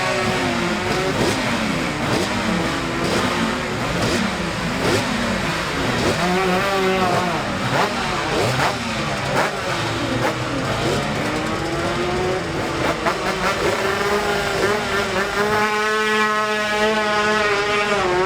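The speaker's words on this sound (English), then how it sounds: "Number 6 coming through there is David Johnson on his 250 Honda" Racing motorcycles at the 2018 Classic TT Senior day, including a 250 Honda, howling past in a continuous stream of high revving engines with sweeping pitch changes as they pass close by.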